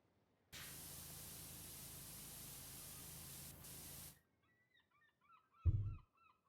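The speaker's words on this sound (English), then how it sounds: "I've never heard a seagull go that long before." In Power Wash Simulator, a loud burst of pressure-washer spray runs for about four seconds and cuts off, then a seagull gives a series of drawn-out calls, with a short louder squawk near the end.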